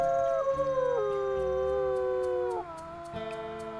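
A wolf in a video game gives one long, loud howl that glides downward in pitch and fades after almost three seconds, heard alone with faint game ambience.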